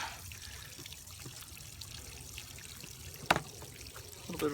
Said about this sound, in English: A little bit of a fuel drip.